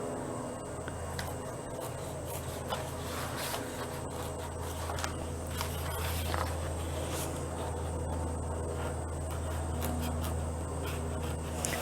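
Scissors cut out a paper design at a crafting table, with faint, irregular snips and light paper rustling over a steady low hum.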